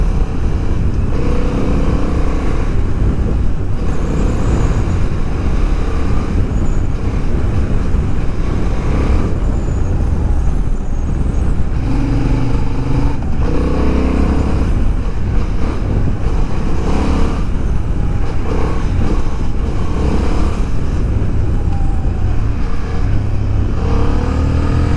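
A 2023 Honda CB750 Hornet motorcycle riding along a familiar back road, its engine loud and close throughout, rising and falling steadily with no talk over it.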